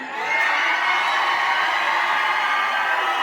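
Students at a college Ganesh festival cultural program raise a loud, sustained crowd cheer with shouts and whoops, swelling up within the first half second and holding steady throughout.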